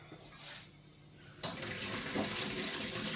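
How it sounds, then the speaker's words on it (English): A kitchen tap opened into a sink, a soft trickle that suddenly becomes a full, steady gush of running water, close and alone. "We're going to need to turn the tap on."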